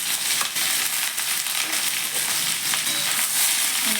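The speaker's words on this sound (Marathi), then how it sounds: "आता याच तेलामध्ये आपण कांदा, लसूण आणि आले टाकूया" Onion, garlic and ginger dropped into hot oil, where paneer was just fried, give a loud, dense, continuous sizzle with crackling for the whole stretch.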